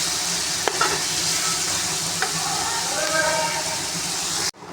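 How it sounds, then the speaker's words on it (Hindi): Chicken frying in a pan for achari macaroni, a steady loud sizzle with occasional scrapes of a stirring spoon, ending abruptly. "अब ये चिकन मेरा फ्राई हो गया।"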